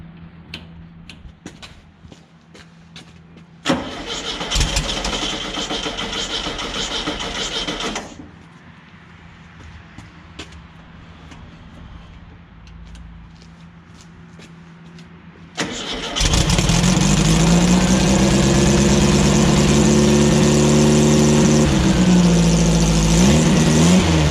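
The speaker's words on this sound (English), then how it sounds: "a little more fuel. Man, you can't kill these old motors." An old air-cooled engine in a rail buggy cranks and catches, runs briefly, drops back, then fires up again and keeps running loud and steady with a low, rough idle.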